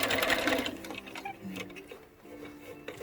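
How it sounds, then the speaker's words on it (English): Sewing machine stitching along the edge of a fabric face mask with a pipe cleaner tucked inside, a rapid close mechanical clatter that runs loud at first, then eases into lighter, intermittent ticking. "So I'm going to sew right along the edge, and I'm pushing the pipe cleaner away from the edge"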